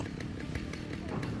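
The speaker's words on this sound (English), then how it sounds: "That is how we deal people with a chainsaw." A chainsaw revs in the Alan Wake video game, its steady buzzing roar close and loud throughout, with short pulsing surges over a dense rumbling backdrop.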